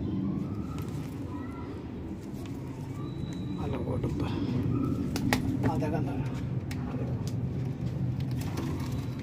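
Pigeons coo softly and repeatedly in the background while someone talks over them nearby.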